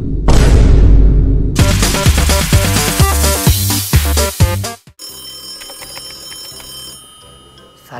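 A phone ringtone announces an incoming call. It starts as loud, dense electronic music, then gives way to a thinner, repeating melodic ring in the final seconds.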